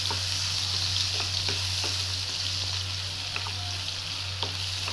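Onions sizzle steadily as they fry in a pan for palak paneer, with a constant hiss of hot oil and a few soft scraping knocks from stirring, close and alone with no talk.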